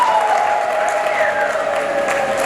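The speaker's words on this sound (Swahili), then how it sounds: "Naomba mjipigie makofi." A crowd applauds at a district council event handing out loans to people with disabilities, a steady wash of clapping with a faint sustained tone riding over it.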